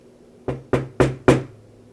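Four sharp knocks on a door in an even, unhurried sequence, each with a brief hollow decay, clear and close in an otherwise quiet room.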